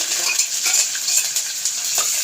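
Small shallots frying in a pan with fennel, cinnamon and dried red chilli, a steady bright sizzle with occasional soft stirring scrapes, close and continuous with no talking.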